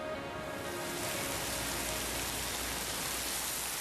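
Steady rain falls as a dense, even hiss of drops that stays unbroken and fairly loud throughout, with no voices.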